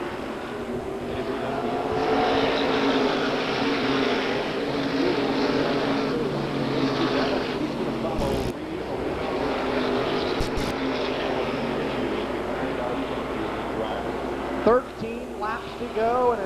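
Race cars roar past at Waterford Speedbowl on a Saturday night feature, a loud sustained engine drone swelling and fading as the pack circles, with a commentator's voice over it and brief sharp bursts near the end.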